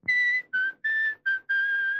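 Someone whistles close and loud in a Tamil film scene, giving five sustained notes separated by brief gaps, with no other sound around them.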